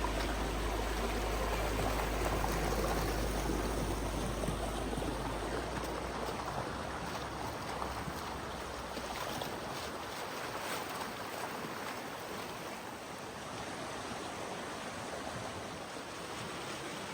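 Steady broadband rush of a river flowing beneath a bridge at Mill Creek in Angeles National Forest, continuous and fairly close, with no voices and a low rumble fading early on.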